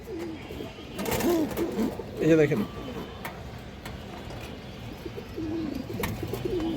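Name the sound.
pigeons cooing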